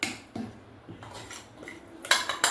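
A spoon stirs citron pickle mixture in a metal pot, producing sharp clanks and scrapes against the metal in irregular strokes, close and fairly loud with brief quiet gaps between them.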